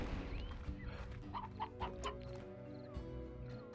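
Briar hens clucking in the video game Slime Rancher, several soft, close clucks and chicken-like calls repeating irregularly over a busy musical background.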